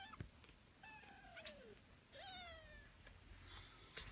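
A young kitten named Galaxy meows twice after waking, two faint, high, drawn-out cries with a falling pitch, separated by a short pause in a quiet room.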